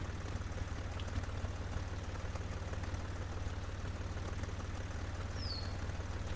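A tractor engine in the farming video game Professional Farmer 2014 drones steadily at a low pitch, a continuous rumbling hum that stays even and close throughout, with no talking.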